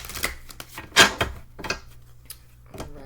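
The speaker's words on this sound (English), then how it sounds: "I'll do one more shuffle." Tarot cards shuffled by hand in a quiet room: a few soft, crisp riffles and taps, with one sharper snap near the start, over a low steady hum.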